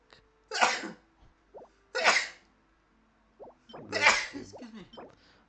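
Two sharp sneezes in quick succession, then a third wetter one, each a sudden burst with short quiet gaps and small breathy sounds between.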